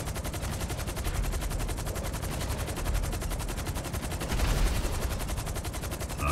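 Sustained machine-gun fire in the GTA Online video game, a steady, rapid, loud rattle of evenly spaced shots that runs unbroken for several seconds.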